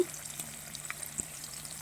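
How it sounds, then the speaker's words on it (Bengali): Steady sizzle and crackle of potatoes frying in oil, with a few soft clinks, continuous and close, no voices. "ওই তেলেই আমি আলুগুলো ভেজে তুলে নিচ্ছি"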